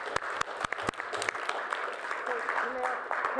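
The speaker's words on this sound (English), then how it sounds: "Maybe we could give everybody a round of applause." Scattered clapping for the winners of a city library writing contest at a council meeting, a few sharp claps over a murmuring room with some background voices.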